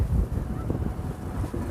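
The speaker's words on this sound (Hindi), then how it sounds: "देखो कितनी मस्त वाली हवा चल रही है" Wind gusts through a forest at an outdoor cooking spot, a steady low roar with buffeting against the microphone, close and fairly loud with no talking.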